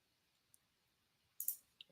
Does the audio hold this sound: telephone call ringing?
no